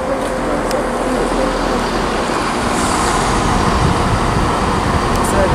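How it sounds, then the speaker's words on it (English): A five-car Chiltern Railways class 168 diesel unit pulls into Oxford station, its steady engine and wheel rumble loud and constant throughout, with no break or pause. "arriving now is the terminating Chiltern Railways service from London Marylebone"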